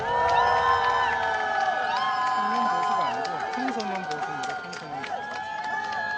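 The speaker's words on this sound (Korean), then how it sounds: "박수로 모시겠습니다." Crowd at a political rally cheering and applauding steadily as a speaker is welcomed to the stage, with whoops and scattered shouts over a dense, continuous roar.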